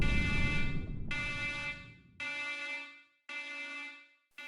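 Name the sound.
alarm sounding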